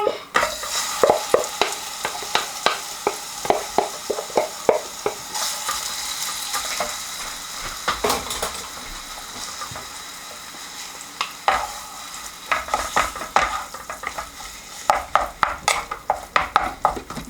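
Pork spring roll mixture sizzles in about two tablespoons of grapeseed oil in a pan, a steady frying hiss broken by repeated sharp scrapes and clacks of stirring utensil against the pan, close and continuous with no talking.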